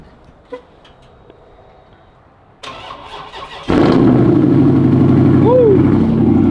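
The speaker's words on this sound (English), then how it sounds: "let me give y'all boys a quick little cold start right quick" Car engine cold-starting outside in falling snow: a quiet lead-in with a few clicks, a cranking surge, then the engine catches and settles into a loud steady idle.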